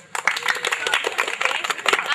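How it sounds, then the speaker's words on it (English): A classroom audience of students claps briefly, a dense patter of hand claps lasting a couple of seconds, with voices mixed in. "give applause to all of you."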